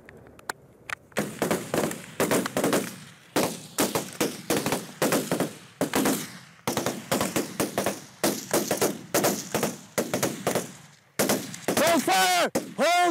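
Gunfire cracks in rapid bursts and single shots, loud and close, with short pauses between volleys and a few shouted voices mixed in near the end.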